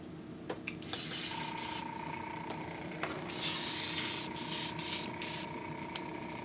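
An airbrush sprays paint onto Rapala fishing lures in short hissing bursts, a few brief ones early and then longer, louder blasts broken by pauses, over a faint steady hum, with no voices.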